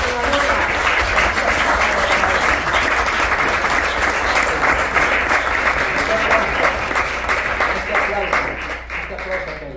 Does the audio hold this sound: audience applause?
yes